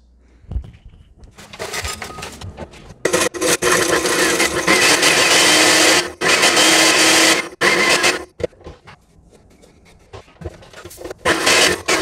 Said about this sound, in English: now we are gonna dump them in this blender right here just to get it into a